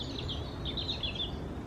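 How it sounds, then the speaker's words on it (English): Birds chirping outdoors, a faint scatter of high tweets through steady background noise, with no voices. "Can you hear the birds?"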